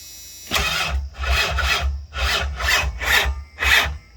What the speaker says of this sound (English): cranking super slow, and I don't know, 4 or so cranks in, she'll start turning over quickly again